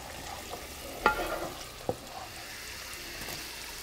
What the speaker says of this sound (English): I'll saute this a few more minutes, like a minute or so, because we need to saute the meat along with this mixture.